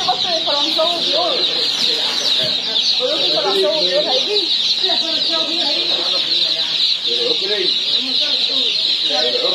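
Domestic ducks of several kinds, including mule ducks, crowd a poultry shop, giving off continuous overlapping quacks and clucking calls with a steady high chirping din behind them.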